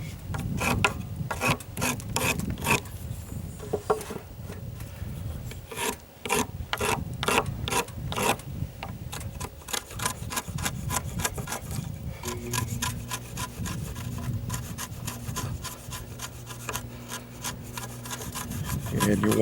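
A wood chisel scrapes and chops a notch sized for a 2x4, with repeated rasping strokes and knocks close by, working on the framing of a chicken coop, occasional faint background noise.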